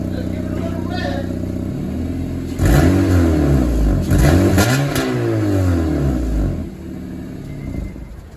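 A straight-piped Honda Civic with a leaking exhaust donut gasket revving up: the engine idles roughly, then climbs through several loud, raspy rising and falling revs before settling back to idle, close and blaring.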